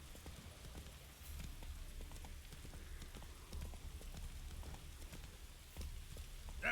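Horse hooves clip-clop steadily from the mount in The Witcher 3 video game, an even rhythmic trot running throughout at moderate level, with faint rain-like patter underneath.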